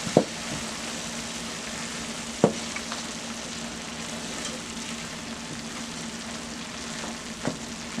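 Turkey tails fry in a pan seasoned with Maggi, lemon pepper and onion powder, giving a steady close sizzle throughout with a few sharp pops or utensil clicks scattered across it.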